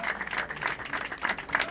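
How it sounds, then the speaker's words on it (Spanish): Audience applause at La Pastora, a rural gaucho festival in Tandil, Argentina: a short, steady patter of clapping from a crowd at moderate distance. "renovamos el aplauso para Jorge Raúl Aristegui"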